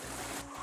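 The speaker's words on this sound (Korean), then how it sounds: "아, 물소리 좋다" Water flowing through a mountain valley stream beside a house, a steady, close, broadband rush with no voices.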